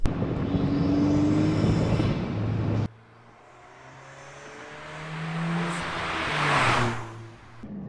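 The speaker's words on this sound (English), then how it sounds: "Beautiful turbo noises coming out of this car." Volkswagen Golf R turbo engine droning from inside the moving car, a steady low hum with rising whooshing surges of turbo spool and revving, loud and alone with no talk.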